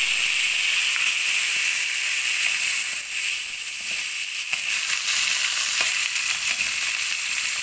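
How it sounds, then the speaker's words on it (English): Potato pieces fry in a pan for a peppery paneer aloo dum, giving a steady, close, loud sizzle and hiss that runs the whole time with no talking. "while I fry up the pieces of potato"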